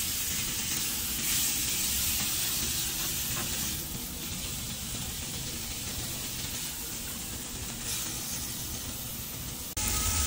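Onions and frozen tomatoes with garlic sizzle in hot oil, a steady loud frying hiss with occasional stirring scrapes, close and continuous with no talking.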